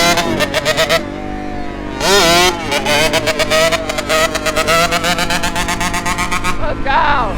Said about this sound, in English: Let's hear that two-stroke.